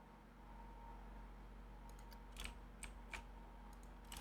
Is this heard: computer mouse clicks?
yes